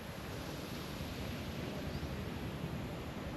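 A small stream of water trickles at a nearly dry waterfall, Little Hogenakkal at Vathalmalai, giving a faint, continuous rushing hiss with soft wind noise that stays even throughout.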